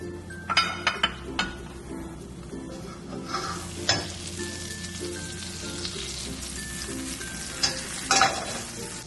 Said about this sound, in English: The first thing is getting those onions to a golden color.